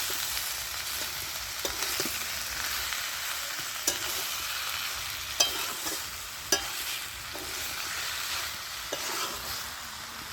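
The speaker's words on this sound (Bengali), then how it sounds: "সবজিটা দিয়ে আমি ভালো করে মশলার সঙ্গে কষিয়ে নেবো আবার।" Fried winter vegetables are stirred with spices in a hot pan, giving a continuous close sizzle broken by occasional sharp scrapes and taps of the spatula.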